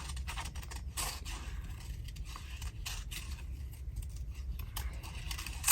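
Scissors snip through paper while a Christmas picture is cut out for a journal, with repeated close, crisp cutting and rustling sounds in an uneven rhythm, and nobody speaking.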